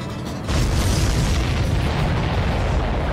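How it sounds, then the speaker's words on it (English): A supply ship explodes in the video game Ace Combat 7 with a sudden loud boom that swells into a dense, sustained roar of blast and rumble. "Did you see that explosion?"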